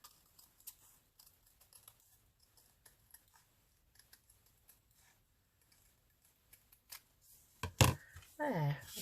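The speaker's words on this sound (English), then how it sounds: "Trying to keep the scissors straight round without making it wavy." Paper is snipped with scissors in small, quiet crisp cuts, following a smooth curve at close range, before louder handling and rustling of the paper takes over at the end.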